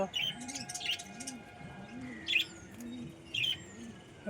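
Domestic pigeons coo in soft, repeated rolling calls close by, mixed with occasional sharper chirps from other birds and a faint voice in the background.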